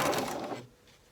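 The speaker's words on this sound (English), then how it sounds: "So I'm just folding and sewing all the way around the loop." A sewing machine stitches a fabric shoulder bag loop in a short quick mechanical whirr that stops after about half a second.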